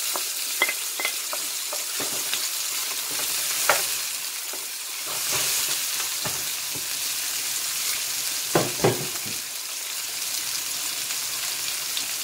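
Seasonings with garlic, onion, tomato and cayenne sauteing in oil in a pot, a soft steady sizzle broken by scattered stirring clinks and scrapes, fairly quiet and close, with no one speaking.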